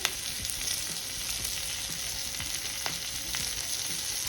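Chili sauce poured into fish manchurian frying at home gives a steady, dense sizzle with scattered pops and crackles throughout, close and continuous.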